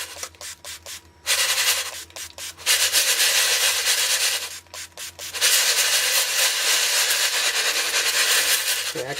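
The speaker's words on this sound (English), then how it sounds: "Got my atomizer sprayer. And I am just going to wet these" An atomizer sprayer wets rolled stars being started on lead shot, giving a series of short pump hisses followed by long, loud continuous spray bursts, close and alone.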